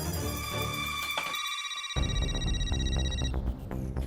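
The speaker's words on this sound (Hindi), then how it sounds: "फोन बज रहा है" A telephone rings with a steady electronic tone, repeating over a background of music, fairly loud and without speech.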